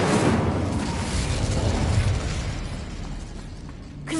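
An Incendio fire spell is cast in the Hogwarts Legacy video game on PS5 inside a tomb, a rough, roaring whoosh of flame that sustains for several seconds and fades, with a sharp burst at the end.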